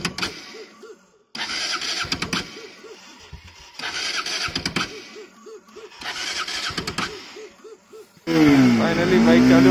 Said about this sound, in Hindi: फाइनली बाइक चालू हो गई है